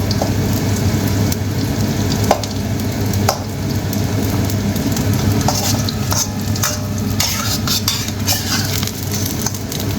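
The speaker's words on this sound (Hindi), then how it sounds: "अब मैं इसमें चिकन को डाल दिया। इसमें मैं इसमें कुक कर लूँगा चिकन को।" Chicken sizzles and fries in about a cup of hot oil in a pan for restaurant-style chicken and vegetable stir fry noodles, a steady loud crackle with occasional stirring clinks, no voices.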